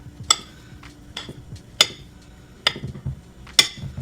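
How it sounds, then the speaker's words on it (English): A spoon clinks against a bowl while stirring peanut butter powder, with four sharp metallic chimes spaced about a second apart over soft scraping and stirring noises, close and fairly quiet. "But if I just keep stirring it,"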